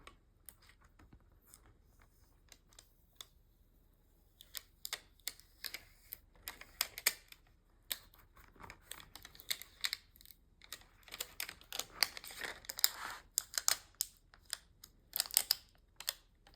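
Transfer tape peels off a Cricut vinyl craft with close, dry crackling and rapid ticking pops that grow denser and louder toward the end, and no voices.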